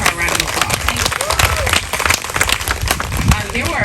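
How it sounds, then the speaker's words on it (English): Audience applauds and claps at a community event, a dense, steady wash of clapping filling the space, with some crowd noise mixed in. "So give her a round of applause."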